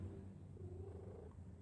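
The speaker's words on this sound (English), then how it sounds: "Am I hearing you purring, Mama?" A mother cat purrs faintly and steadily nearby in a quiet sewing room, a soft continuous low rumble with no voices over it.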